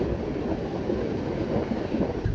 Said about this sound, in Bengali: দেখলাম ফারাক্কা ব্যারেজের উপরে ট্রেন।